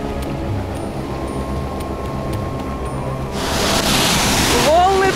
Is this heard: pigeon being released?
no